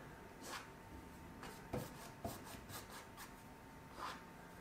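A palette knife or brush scrapes acrylic paint across canvas in soft, close rubbing strokes, several short scrapes spaced irregularly and very quiet.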